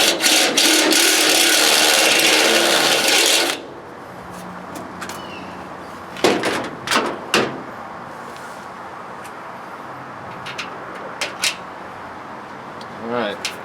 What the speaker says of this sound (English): I'm just gonna put a drill bit in there, make it the size I need, and drop my bung in there.